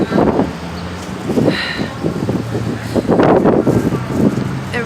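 Strong, gusty winter wind blows through a New York City street on a cold February day, rumbling and buffeting the microphone in surges with faint traffic beneath and voices talking intermittently.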